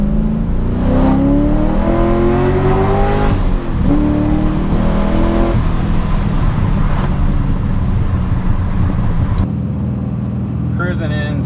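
An LS-swapped BMW E30 pulls hard on its first drive, the V8 note climbing steadily through the revs in a loud, continuous roar that shifts once and keeps rising, with a voice talking over it.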